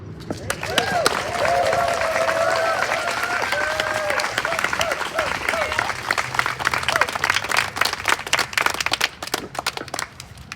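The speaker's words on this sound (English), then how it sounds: "a big round of applause for Gail, Dr. Gail Frazetta." A crowd at a Women's March rally claps steadily for several seconds, a dense, even patter of applause that carries on without pause, with some voices mixed in early.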